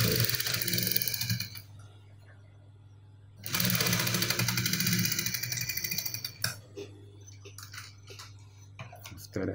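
A sewing machine stitches a lapel on the inside of a bodice in bursts of rapid, even needle clatter, with a quieter pause between runs and a few soft ticks near the end.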